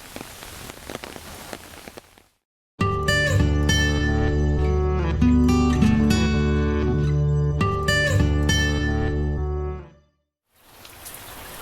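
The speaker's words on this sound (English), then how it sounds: "the rain is absolutely pouring right now" Heavy rain pours steadily near a castle in Gyoda City. A loud, sustained tonal droning sound masks it for several seconds in the middle, and the rain is clearly heard alone again at the end.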